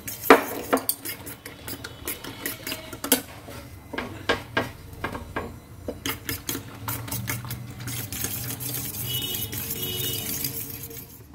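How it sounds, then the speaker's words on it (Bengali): Two eggs with chili flakes and salt being whisked in a bowl, a rapid, uneven run of close clinking and tapping from the utensil with no talk. "আর 2টো ডিম দিয়ে, একটু চিলি ফ্লেক্স আর একটু লবণ দিয়ে আমি ডিমটা ফেটিয়ে নিচ্ছি"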